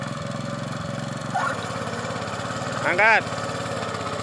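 Small farm engine running with a steady low mechanical chug, briefly surging louder as the throttle opens, heard close under a man's spoken instructions.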